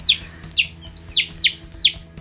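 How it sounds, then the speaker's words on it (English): Cornish cross chicks in a brood box indoors, in a laundry room, give rapid, repeated high peeps close at hand, about five sharp chirps in quick succession. "in my laundry room, we have 31 Cornish cross chickens"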